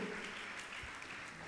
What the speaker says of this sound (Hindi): तालियां अनवरत लगातार आपकी सम्मान